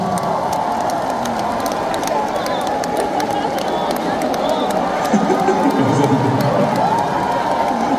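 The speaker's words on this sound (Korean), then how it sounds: "큰 박수 한번 부탁드리겠습니다." A fan-meeting audience cheers and applauds after a song performance, a dense, steady crowd roar with clapping running throughout at a loud, even level.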